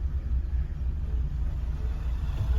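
A car engine idles in neutral while stopped, giving a steady, low, even rumble that continues unchanged throughout with no revving.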